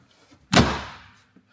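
An Elva supercar door shuts with a single close, solid thunk that rings out briefly and fades, alone in an otherwise quiet moment.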